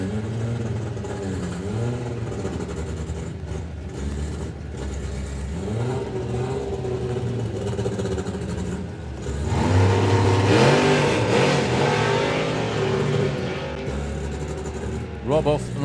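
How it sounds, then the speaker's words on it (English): A drag racing car engine revs on and off the throttle several times, surging and dropping and then roaring louder near the end, with people talking over it. "Rob off and on the throttle a couple of times."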